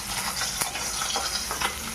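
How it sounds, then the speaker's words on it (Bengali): Small parshe fish fry in hot oil for a spicy jhal curry, giving a close, steady crackling sizzle with a few sharp pops and occasional stirring clinks, no voices. "মাছগুলো ভাজা হচ্ছে"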